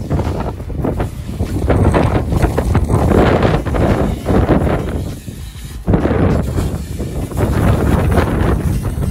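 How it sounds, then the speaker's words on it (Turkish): Strong gusts of wind roar across the microphone in surging waves, loud and rough, with no one speaking, outdoors at a truck wash. "Felaket bir rüzgar var."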